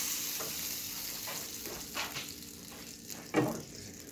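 Oil sizzling in a frying pan while making crepes, a faint steady hiss with a few soft clinks and scrapes, the loudest knock near the end.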